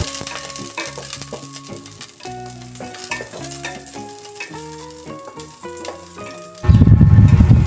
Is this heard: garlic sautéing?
yes